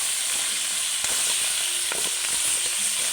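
Food sizzles and bubbles in a hot pan, a steady hiss with scattered pops and occasional stirring clinks, close and continuous with no talking.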